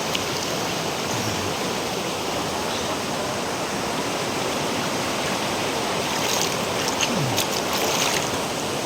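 The Tugnaw River in Cabadbaran City, Agusan del Norte, Mindanao, gives a constant, fairly loud rushing flow of water, steady and unbroken, with no speech.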